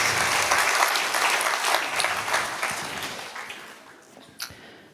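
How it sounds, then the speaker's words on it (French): A theatre audience applauds the staff, with a full, dense round of clapping that gradually fades out, ending with a single sharp clap. "On peut applaudir tout le staff qui est là, s'il vous plaît."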